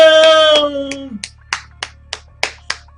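Sharp, separate hand claps or snaps come at a slow, uneven pace, about eight in all, close and crisp, after a sustained tonal sound with a falling pitch at the start.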